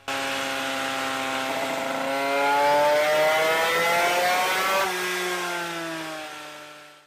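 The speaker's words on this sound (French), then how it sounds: "faire varier le régime du moteur afin de libérer les imbrûlés du carter et finaliser le rodage" Small engine revved up and down during the final stage of its break-in run, loud and close with clear rising and falling harmonic sweeps, alone for about seven seconds before fading.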